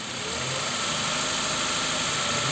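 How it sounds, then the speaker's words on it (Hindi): A car engine is running under vacuum-gauge testing, its RPM raised slightly from a steady idle; the engine note holds as a continuous, fairly loud mid-range drone with a slight rise and no speech. "अब इसको हम थोड़ा सा इसका आरपीएम बढ़ाते हैं।"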